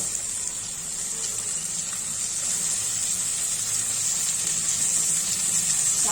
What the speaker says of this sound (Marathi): आता परतून घेऊ। कांदा आपला चांगला परतलेला आहे।